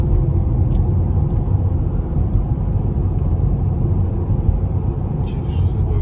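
A car driving on a road on a long trip from Yakutsk to Altai in Russia, heard from inside as a constant low rumble of engine and tyres, steady and loud throughout.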